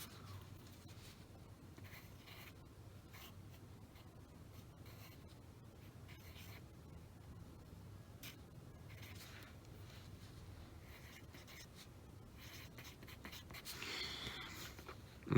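Pen or pencil scratching faintly on paper while a circuit diagram with a single-pole single-throw switch is drawn, in a soft continuous rubbing with small strokes, close and quiet throughout.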